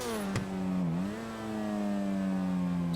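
Car engine in GTA V revving hard during a perfect start, a loud sustained roar that dips briefly and then holds a steady high pitch, alone without talk.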